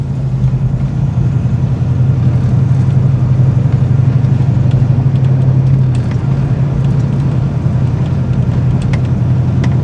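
A 1971 Ford Mustang convertible fitted with a new, quieter exhaust runs steadily, its low engine rumble close and constant, with a smooth mid-range hum and no voices.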